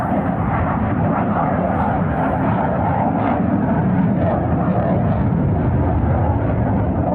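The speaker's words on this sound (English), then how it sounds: "And there goes an F-18, I believe." An F-18 fighter jet flies overhead, a broad roaring rumble that holds steady and loud for several seconds, heard from the deck of a boat with no speech over it.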